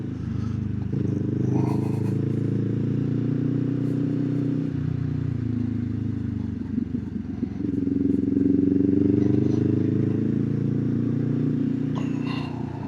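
A motorcycle rides along a rough, gravelly road full of potholes, its engine droning steadily at moderate volume with some rattling and clatter from the uneven surface and a brief dip midway before the engine picks up again.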